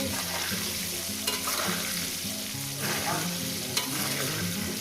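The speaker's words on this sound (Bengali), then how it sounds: "ছ সাত মিনিট ধরে আমি আলুটাকে ভেজে নিই" Potato pieces frying in oil in a pan, a steady close sizzle with occasional stirring scrapes, no talking.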